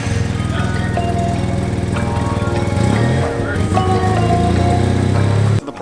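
A Wildcat 700 Sport side-by-side UTV engine runs loud and steady while reversing onto a road, its pitch rising briefly midway before cutting off at the end.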